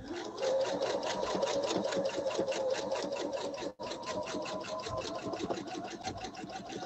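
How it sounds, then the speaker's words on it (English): Domestic sewing machine running steadily through free-motion quilting, a continuous rapid needle chatter that holds for several seconds, briefly cuts out, then resumes at the same fast, even pace; close and moderately loud with no talking. "I'm gonna start by over sewing that one stitch a couple of times, and now I'm just moving along."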